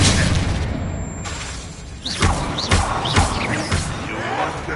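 Blasting-spell explosions from Hogwarts Legacy on PS5 burst out as several loud booming impacts in quick succession over a noisy battle bed, with a voice shouting during the fight.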